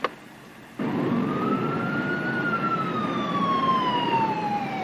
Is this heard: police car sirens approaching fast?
yes